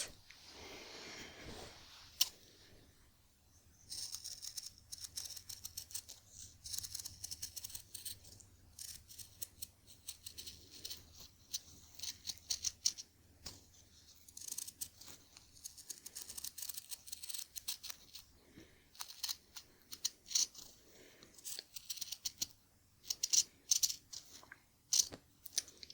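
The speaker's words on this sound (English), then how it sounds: "Alright, now to trim off the excess." Scissors snip away the excess yarn hair on a handmade rag doll, close-up and crisp, with repeated sharp cuts and soft rustling spread across the whole stretch and no talking.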